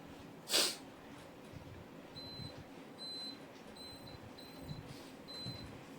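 One sharp, short sneeze bursts out near the start, close and fairly loud, followed by quiet room tone with a few faint intermittent electronic beeps and no talk.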